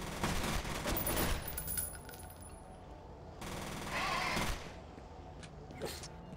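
Rapid video game gunfire in a monster shooter, loud bursts of shots and impacts in the first two seconds, a quieter stretch, then another heavy burst around four seconds and a brief final pop near the end.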